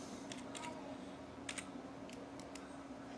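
Keystrokes on a computer keyboard typing a terminal command, a few quiet clustered clicks in short bursts over a low background hum, with no one talking.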